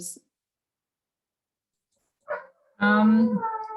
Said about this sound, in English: my dogs are howling